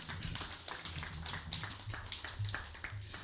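Audience clapping at an evening community meeting in Woodland, Oropouche West, a loose, moderately quiet patter of hands lasting a few seconds with a low hum underneath.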